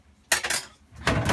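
Metal casing of a Viessmann Vitodens 200 boiler lifted off after screws are undone, giving two quick clattery metallic knocks followed by a longer scraping rattle, close and fairly quiet.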